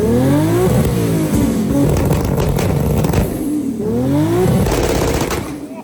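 A 1000 HP Toyota Supra driven toward a trailer, its engine revving up in two rising pulls with popping, crackling bursts between them, loud and close.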